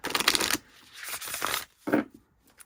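Oracle deck cards with a smooth, non-sticky finish being shuffled by hand, giving quick close papery riffles in two main bursts followed by a softer brief flick.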